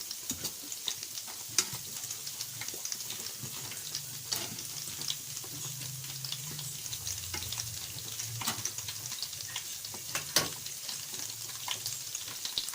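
Kofta frying in paprika-tinted oil, a continuous low sizzle with scattered crackles, scraping and clinks as the pieces are flipped, no talking.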